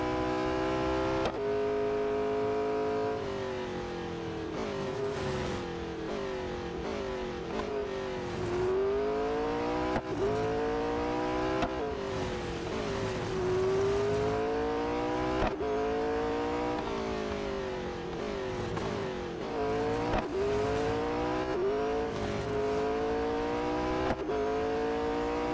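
The engine of a McLaren 600LT race car in the Real Racing 3 video game howls steadily through a race, with repeated rising revs, sharp gear-change dips and deceleration sweeps, loud and continuous with no voices.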